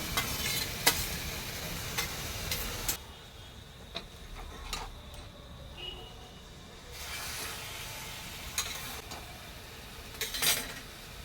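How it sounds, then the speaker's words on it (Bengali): Potatoes frying in a pan give a soft sizzle under scattered utensil clicks and stirring scrapes, moderately close, with the sizzle thinning in the middle before picking up again. "তো এখন আমি আলুটা ছেড়ে দিচ্ছি।"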